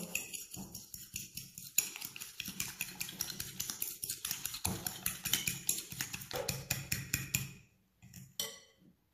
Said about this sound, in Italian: Aggiungo subito lo zucchero alle uova e lavoro.